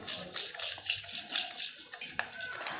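A spoon scrapes and clinks steadily against a bowl while black pepper powder, red chili powder and black salt are stirred together for a chutney spice mix, with close, rhythmic metallic taps and no talking.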